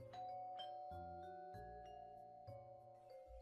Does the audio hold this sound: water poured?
no